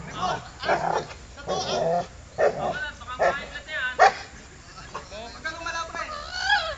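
A dog whimpers and gives short yipping barks at a training session, under several people talking and calling out commands.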